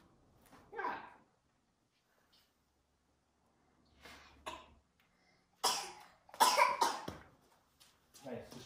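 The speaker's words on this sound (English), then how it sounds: "Just come over and cough on it." Several coughs, some faint and some loud and close, come in scattered bursts with short pauses, ending in a couple of harsh hacking coughs.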